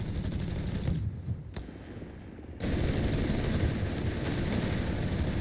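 A .50 cal machine gun in Company of Heroes 3, sustained, dense automatic fire that briefly thins out for about a second and a half, then returns at full strength.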